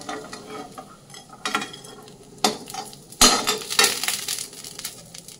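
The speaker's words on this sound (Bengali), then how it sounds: "বড়াগুলো কিন্তু ভাজা হয়ে গেছে। আর কতটা তেল দিয়েছিলাম, তেলটা পুরো টেনেও নিয়েছে। বড়াগুলো তুলে নেব।" Fried lentil fritters being lifted out of a shallow oil-soaked pan with a metal spatula, irregular scraping, clacks and one sharp knock over a faint sizzle, close and alone without speech.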